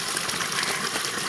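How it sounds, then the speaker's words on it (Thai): A hot-spring waterfall in Krabi, Thailand, pours in a steady, dense rush of falling water, close and continuous with no pauses and no voices over it. "ครับเจอน้ำตกแล้วนี่ครับน้ำตกครับ"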